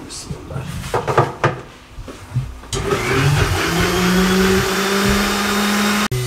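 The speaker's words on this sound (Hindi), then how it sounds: "थोड़ा सा दूध डाल लें इसमें और इसको ग्राइंड कर लें" Mixer grinder blending bread with milk for matka kulfi: a few short clatters and pulses, then a loud steady whirring grind lasting several seconds before cutting off abruptly.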